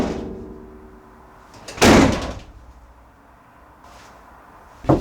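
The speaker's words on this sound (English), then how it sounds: "and then I'm going to open and close the doors again." A van's back doors are swung and shut: one loud slam midway through, then a second sharp thud at the very end, with quiet handling noises in between.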